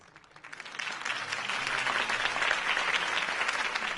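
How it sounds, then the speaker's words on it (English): Sustained crowd applause after a campaign speech in the video game Batman: Realm of Shadows, swelling quickly and holding as a steady, dense roar of clapping for several seconds. "If only Mr. Wayne, my campaign's largest backer, could have heard that applause"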